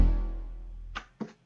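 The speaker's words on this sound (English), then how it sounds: "So analog bass sounds like this." A single deep analog synth bass note at C5 sounds and slowly fades, followed by two short, brighter blips near the end.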